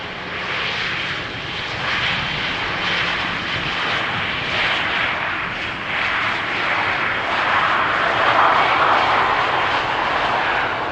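An airplane lands on runway 18R, the Polderbaan, at Amsterdam Schiphol Airport. A steady, broad aircraft engine roar carries on throughout, swelling slightly toward the end, with no voices.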